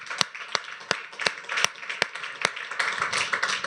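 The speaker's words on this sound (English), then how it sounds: "Let's give him a round of applause." Scattered audience claps for a panel moderator at a tech conference livestream, distinct individual claps at first that thicken into light applause.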